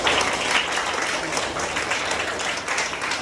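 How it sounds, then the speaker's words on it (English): A college audience at a student tech event applauds a student, with steady, even clapping from many hands sustained throughout and no voices on top. "Can we give her a round of applause?"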